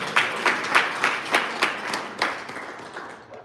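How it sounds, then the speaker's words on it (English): Applause from an audience at a veterans' marketplace in Maryland, steady clapping with soft rhythmic swells that slowly fade out toward the end. "So give yourselves a round of applause for being here."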